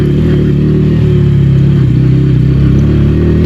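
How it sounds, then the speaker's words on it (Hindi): Bajaj Pulsar N160 motorcycle engine pulling hard on a ride review, a loud, steady droning note with a continuous rumble and no talk. "आप इंजन की आवाज़ जो है वो सुनिए और इसकी स्पीड देखिए।"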